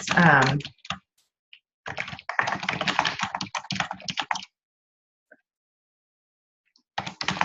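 Bursts of computer keyboard typing come in quick clusters of keystrokes separated by pauses, fairly close and clear, as a comment is entered.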